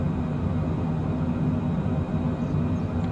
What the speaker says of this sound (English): is this how HondaJet also sounds in real life inside the cockpit?